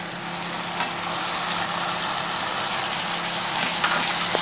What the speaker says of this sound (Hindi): टमाटर को भी हमें इसे ही भूनना है लो फ्लेम पे और अच्छे से सॉफ्ट करना है